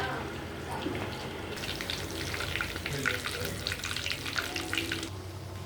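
Rohu fish frying in plenty of oil, a soft, continuous sizzle and crackle close by, with intermittent bubbling bursts and faint background noise.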